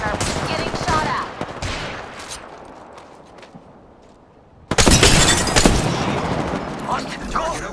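Bursts of automatic gunfire in a video game battle, a quieter stretch of scattered shots, then a sudden loud barrage of rapid fire with impacts, under a player's talk.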